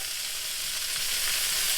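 Seasoned pork chops sizzle and spit as they brown in a pot, a loud, dense, steady hiss that holds unbroken from start to finish.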